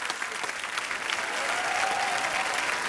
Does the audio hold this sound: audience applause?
yes